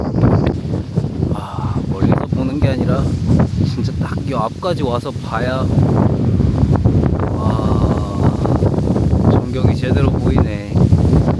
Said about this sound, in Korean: 오늘 바람이 생각보다 좀 많이 불어가지고 바람 소리가 같이 들어가긴 할 거예요